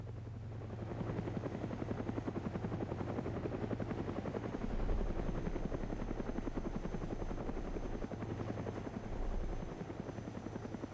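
A helicopter in the video game DayZ flies with a loud, steady rotor thump and engine drone that continues throughout, with no speech over it.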